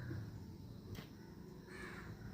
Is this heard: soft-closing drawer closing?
no